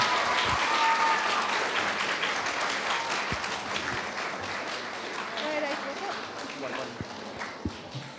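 An audience at a school club expo applauds as a student club comes up, a dense, steady wash of clapping that stays full throughout and eases slightly toward the end, with some crowd noise mixed in.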